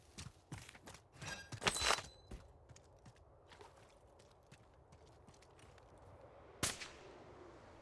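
Sniper rifle fire from a hilltop in the Warzone game, several sharp distant cracks spaced out, a cluster early and one louder shot near the end, with no talk over it.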